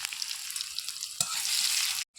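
Chopped onions hit hot mustard oil in a kadai with dried red chillies and five-spice, a bright crackling sizzle that swells after a clunk, then cuts off briefly.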